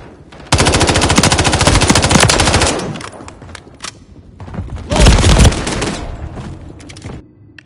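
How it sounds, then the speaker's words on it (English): Automatic gunfire in the Call of Duty Modern Warfare III video game erupts in two loud rapid bursts, the first long and sustained, the second shorter with a heavy boom, separated by scattered single shots. "Taking effective fire."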